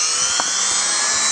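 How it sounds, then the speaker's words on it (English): A cheap old Dremel rotary tool engraves a talisman, giving a brief, steady high-pitched whine close up. "I have just a cheap old Dremel for this."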